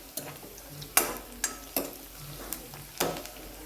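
Cumin seeds crackle in hot oil in a pan for an aloo matar curry, with sharp pops landing at a slow, irregular pace, close and quiet, and a faint sizzle between them.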